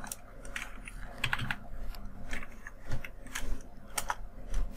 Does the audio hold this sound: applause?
no